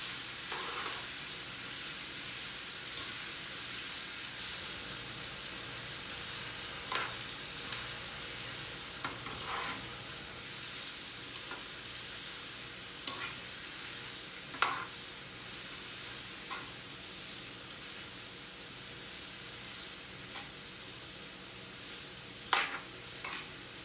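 Shrimp and zucchini fry in a pan with a steady, soft sizzle, broken by a few brief clinks and stirring scrapes, heard alone at low volume.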